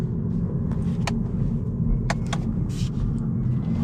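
Interior road noise from a 2026 Opel Astra hybrid 145 GS on 18-inch wheels driven at night in sport mode, a steady loud low rumble with a few faint clicks on top.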